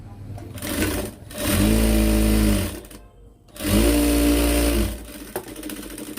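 A sewing machine stitches blouse cloth during blouse tailoring, running loud and close in two steady bursts of about a second each, with a short pause between them and quieter handling noise around them.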